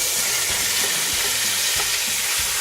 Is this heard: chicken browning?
yes